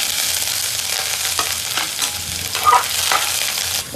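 Cumin, a dried red chili, garlic and ginger sizzle steadily in hot oil, a close, continuous crackling hiss with a few soft stirring clicks and scrapes.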